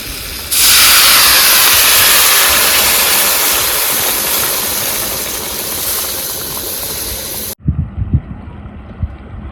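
Water poured into a pan of sizzling crab curry masala with fried crab sends up a loud, steady hiss of steam that slowly fades over several seconds, then cuts off into quieter stirring and clatter.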